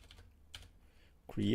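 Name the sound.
typing on a computer keyboard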